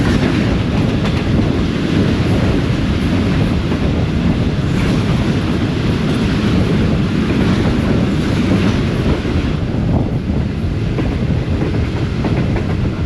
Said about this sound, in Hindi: सामने से NLC की पावर आ रही है, एक GMG 30 7189 कंटेनर स्पेशल ट्रेन है।